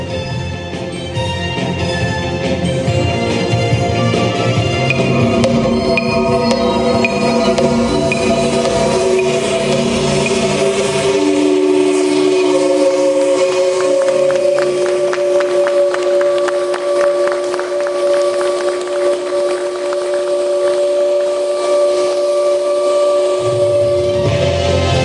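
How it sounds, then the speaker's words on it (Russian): A loud, sustained factory whistle sounds at the Seversky pipe plant, a steady tonal blast with shifting pitches that fills the whole stretch without a break. "Гудок дать разрешаю."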